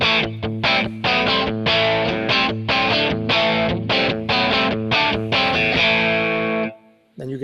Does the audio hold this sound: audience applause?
no